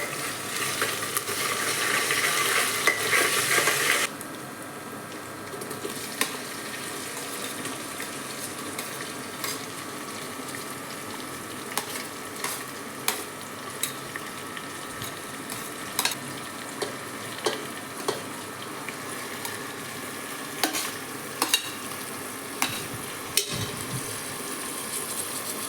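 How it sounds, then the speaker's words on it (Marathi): Tomato, cabbage and cauliflower frying in hot oil for masala khichdi, a steady close sizzle with repeated scraping stirs. A louder burst of sizzling comes at the start, as the vegetables go into the pan. "आता आपण याच्यामध्ये टमाटर, पत्ताकोबी आणि फ्लावर हे सगळं टाकलेलं आहे। आता ते तेलामध्ये चांगलं फ्राय होऊ"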